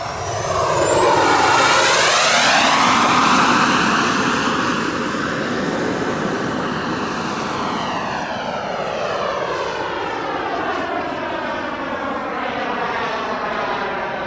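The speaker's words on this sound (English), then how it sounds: "Wow, what a pretty airplane." A Feiboa Viper RC jet powered by a Swiwin 140 turbine flies past, its loud turbine whine rising and then slowly fading with a clear Doppler sweep as it passes and recedes.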